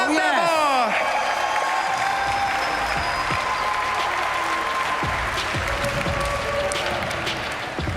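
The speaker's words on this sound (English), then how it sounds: "Please, let's make some noise for Onni Sandemo!" Applause and cheering from a crowd at a skateboarding competition finals street jam ring out loudly and continuously, with whoops and an announcer's voice briefly over the start.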